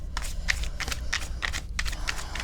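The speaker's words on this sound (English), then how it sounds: "I'm just going to do one little shuffle here" Tarot cards being shuffled by hand in a quick rustling, flicking run of repeated bursts, close and steady for a couple of seconds with no talking.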